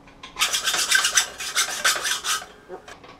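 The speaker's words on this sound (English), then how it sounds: "And then you cut down into it about the same depth as the original driver head." A slot is cut into a metal screw head to match the original driver depth. Close, rhythmic rasping strokes, roughly a dozen in quick succession, sound like a saw or file biting into the metal, with no one talking.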